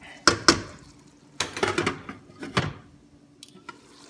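A metal lid clatters onto a pan of simmering Cantonese noodles, with a couple of sharp clinks, a scraping settle and softer knocks afterward, close by and without any talking.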